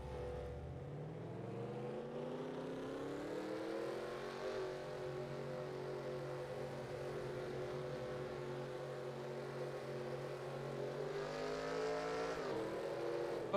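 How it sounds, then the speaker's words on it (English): Race cars accelerate out of pit road at Daytona in a 500-mile race, engines droning and rising in pitch as they gain speed, with a steady blend of several cars at moderate distance and no talk. "What are these cars doing coming out pit road?"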